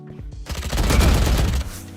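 Sheriff pistol gunfire in the shooter game Valorant, heard as a dense burst of sharp shots packed into about a second, loud and close, with clicks before and a quick fade after.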